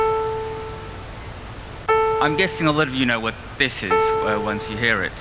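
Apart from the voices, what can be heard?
single piano note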